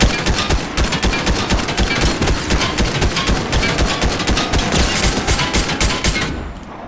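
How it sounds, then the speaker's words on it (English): Rapid automatic gunfire in the video game Fortnite, a dense unbroken stream of loud, close shots lasting several seconds before cutting off. "I'm literally shooting at him"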